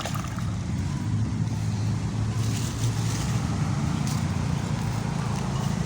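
A submersible electric water pump runs while yardlong beans are watered, giving a steady close hum and rushing, splashing water noise throughout, loud and unbroken.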